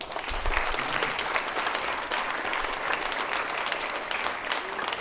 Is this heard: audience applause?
yes